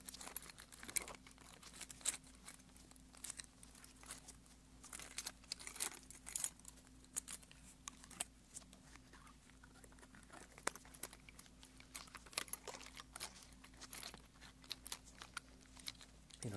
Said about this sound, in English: I've always liked the sound of jingling keys